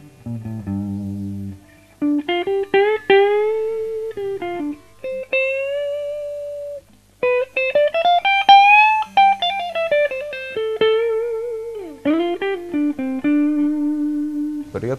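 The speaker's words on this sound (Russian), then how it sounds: "На нековом датчике она звучит так." A Gibson Les Paul 58 reissue electric guitar with mahogany body and neck and rosewood fingerboard plays a clean, warm melodic line on the neck pickup, with sustained single notes and bends, alone and close.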